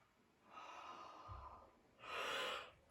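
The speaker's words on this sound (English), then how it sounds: "It's making me yawn." During a yoga class, a person lets out a long audible yawn, a breathy drawn-out exhale followed by a brief pause and a stronger sighing breath, close and fairly quiet.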